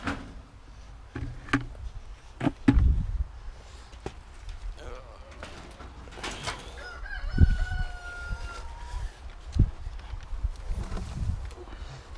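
Chickens cluck in short bursts while a rooster crows partway through, with some thumping and background farmyard noise.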